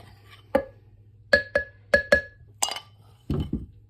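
A glass container meant for storing homemade gesso clinks and taps as it is handled, giving several sharp, ringing clinks close by, some in quick pairs, then a duller clatter at the end.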